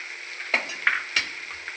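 Green chillies added to onions frying in oil in a pan, with a constant close sizzle broken by three quick stirring scrapes, and no voices.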